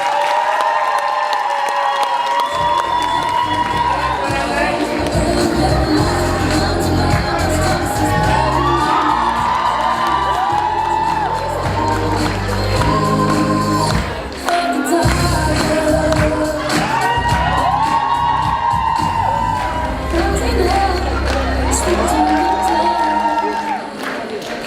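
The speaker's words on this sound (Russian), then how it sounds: "Давайте громогласными аплодисментами проводим их готовиться к следующему дефиле." A hall audience at a university pageant cheers loudly and applauds, with whoops and shouts layered over continuous clapping for the full stretch; a loud voice comes through the crowd noise.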